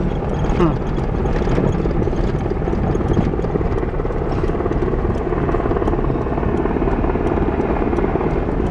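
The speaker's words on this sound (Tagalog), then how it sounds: "Tingnan mo yung helicopter, dude." Helicopter rotor thumping steadily and close over an outdoor base, a continuous loud chop with broadband engine roar throughout, no talk over it.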